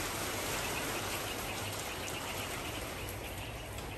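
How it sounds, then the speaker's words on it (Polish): Light rain falls steadily outdoors, a broad, even patter with a faint hiss, heard alone and fairly close throughout. "Chociaż już zaczyna kropić znowu."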